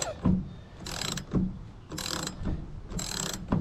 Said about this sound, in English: Now I prefer to use a 6-point socket on this because it's less likely to slip.